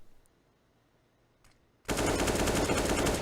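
Counter-Strike gunfire on the Vertigo map erupts suddenly after a near-silent pause, a loud, dense burst of rapid shots that carries on to the end.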